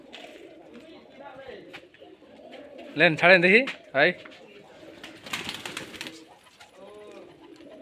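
Giribaz tumbler pigeons from Rajshahi coo in a short, close burst of throaty calls, with someone talking before and after and other faint bird sounds around them.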